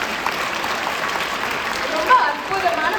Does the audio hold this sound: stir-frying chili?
no